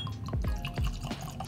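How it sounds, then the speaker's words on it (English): Old Forester single barrel bourbon is poured into a glass, heard as a short run of close, faint gurgles and drips, a few quick liquid splashes with no talk. "let's pour my 9 summer one"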